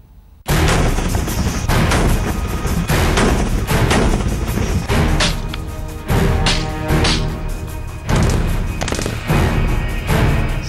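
Rapid cross-border gunfire crackles loud and dense, with bursts of sharp reports and booming impacts piling up over about ten seconds.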